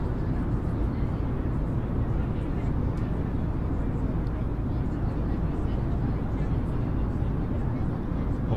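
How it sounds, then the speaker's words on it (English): Boeing 737-800 jet engines in Microsoft Flight Simulator 2020, a steady broadband rumble and roar that stays even and loud across the whole stretch. "That's a Boeing 737-800."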